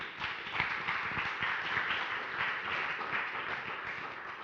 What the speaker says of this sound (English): a round of applause for young Bunge